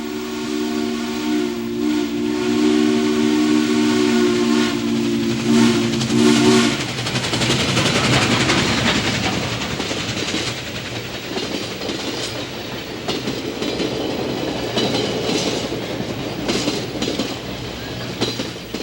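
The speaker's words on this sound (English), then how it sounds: "The thunderous roar of a steam locomotive returned to the Wisconsin Central rails during July and August 1988." Frisco 1522 steam locomotive on the Wisconsin Central rails sounds a long, loud multi-tone whistle, then the running train roars past with chuffing and rolling wheel clatter that fills the rest of the stretch.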